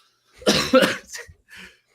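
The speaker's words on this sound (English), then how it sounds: "Cough sent right through the microphone directly to me." A few harsh coughs close to the microphone, a quick pair followed by a softer one and a faint trailing cough.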